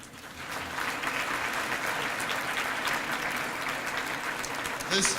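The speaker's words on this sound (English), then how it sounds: "let's give another round of applause to all of our partners" Audience applause at a graduation gala's opening ceremony, a steady sustained clapping from a large crowd filling the room, moderately loud throughout with a few louder claps near the end.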